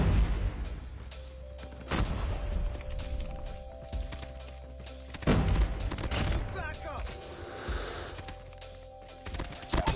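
Video game gunfire in a ranked shooter match with a PP19 loadout: sharp shot bursts crack out at intervals amid a dense mix of game sounds, with a voice talking through it.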